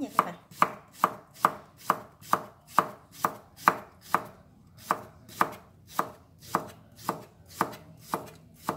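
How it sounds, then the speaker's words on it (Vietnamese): Knife chopping beef into thin slices on a cutting board for a vinegar hotpot, sharp regular knocks of the blade hitting the board at a steady even rhythm, about two per second, close and clear with no talking. "Thì mình sẽ sắc lát mỏng nha."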